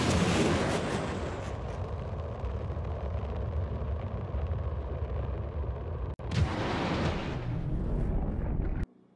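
A rattler weapon fires in a naval combat video game with a loud, continuous, roaring barrage. It cuts off sharply for a moment, then resumes just as loud before stopping abruptly.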